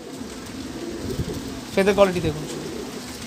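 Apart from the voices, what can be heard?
pigeons cooing in loft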